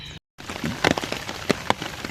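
Heavy rain pours down in a village, a dense steady hiss with sharper splashing bursts, briefly cut to silence near the start before resuming close and loud.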